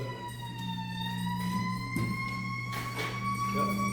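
A fire engine siren wails in the distance, a steady, slowly rising and falling tone continuing for the full length, heard faintly behind room noise at a meeting of American Legion Post 73.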